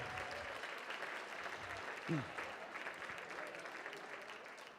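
Audience applause for Doug Shoemaker at the Mercy Housing gala for youth programs, a steady, fairly soft wash of many hands clapping in a large room that carries on without a break, with faint crowd murmur underneath.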